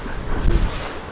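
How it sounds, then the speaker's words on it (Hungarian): Strong wind gusting across a mountain summit in the Dachstein area, about 50 km/h at minus 7 degrees, a steady low roar of buffeting microphone rumble that swells briefly mid-clip, with no voices. "50 km/h szél van itt fönn"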